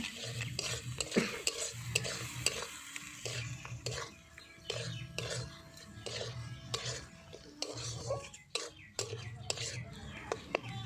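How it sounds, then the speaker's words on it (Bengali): Salt, turmeric, cumin and chilli powder sautéed and stirred in a pan for egg curry, a soft sizzle with scraping and metal utensil clinks, under quiet, low talking. "জিরা গুঁড়ো এবং লঙ্কার গুঁড়ো ভালো করে কষিয়ে নেব"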